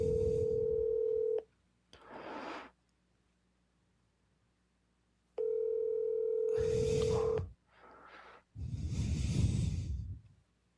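A telephone call rings out with long steady tones separated by silence, followed by short noisy bursts as the line clicks over toward voicemail.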